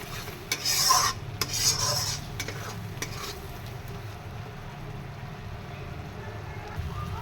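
Masala being stir-fried in oil for a golda prawn curry, with soft scraping strokes of a spatula in the pan over a low steady sizzle, fairly quiet and close.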